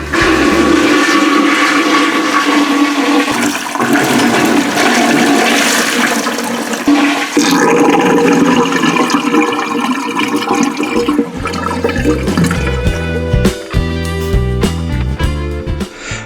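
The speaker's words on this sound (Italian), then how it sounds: "Voi potete premere direttamente sul pulsante dello sciacquone." A toilet flushes loudly and steadily, rushing water draining from the cistern, then tapering into gurgling refill sounds near the end.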